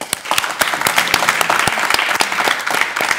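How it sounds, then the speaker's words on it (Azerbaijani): Hall audience applauding the saz at a folk music broadcast: dense, loud, continuous clapping with sharp individual claps throughout, no talk. "müqəddəs sazımızı biz ürətən alqışlayaq."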